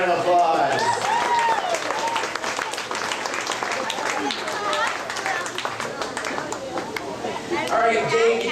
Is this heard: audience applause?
yes